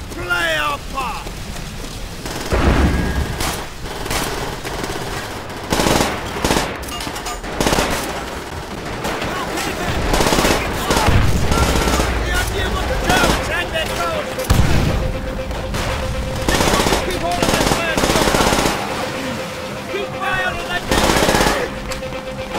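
Machine gun fire in Call of Duty: World at War's Soviet campaign during the fall of Berlin: loud repeated bursts of automatic fire and gunshots crackle throughout, mixed with battle noise and shouted voices.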